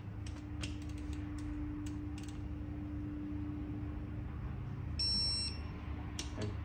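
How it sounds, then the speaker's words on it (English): A torque wrench tightens engine connecting rod bolts to 13 foot-pounds while rod bearing oil clearance is checked. Short bursts of quick ratcheting clicks sound near and clear over a steady low hum, with a brief electronic beep and a final sharp click. "I'm just waiting for my torque wrench right now. Okay, so we're gonna go to 13 foot-pounds."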